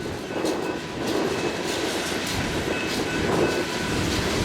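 Chicago and North Western freight train coal cars roll past steadily, a continuous rumbling clatter with rhythmic wheel clicks and faint metallic squeals, fairly loud and unbroken.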